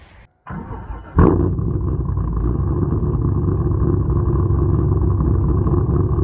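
A 1990s Chevrolet Camaro engine cranks and fires up with a sudden loud burst, then settles into a steady, close, rumbling run.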